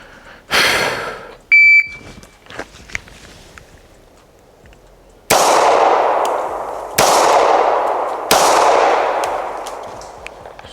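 Gunshots fired at a shooting range target from about three yards: a burst of sharp reports early on, then three loud, evenly spaced shots, each with a long ringing tail.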